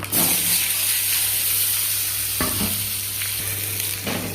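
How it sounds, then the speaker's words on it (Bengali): Nigella seeds and chopped onion hit hot oil with a bright, steady sizzle, close and fairly loud, joined by a few spatula scrapes against the pan. "এবার তেলে ভরে দিয়ে দেবো কালো জিরে, আর দিয়ে দেবো পেঁয়াজ কুচি"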